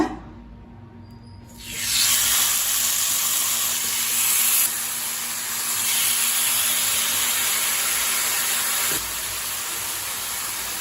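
Pieces of chicken laid one by one onto a hot oiled grill pan, a sharp hiss rising after a quiet start into a strong continuous sizzle that steps in level as more pieces go down.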